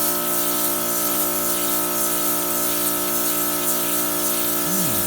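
A pressure washer sprays water onto carpet with a loud, constant hiss and a steady mechanical drone that holds without a break, close and unaccompanied by speech.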